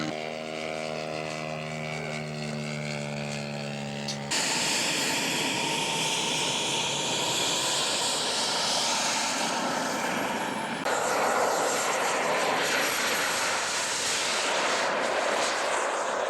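A scale model Waco biplane flies at an outdoor model aircraft air show, its engine droning steadily and loudly throughout with shifting pitch as it passes, clear of any talk.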